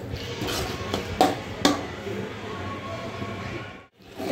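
Tomatoes sautéing in oil in a pan for masala okra, a steady sizzle with a couple of sharp metal spatula clinks against the pan early on.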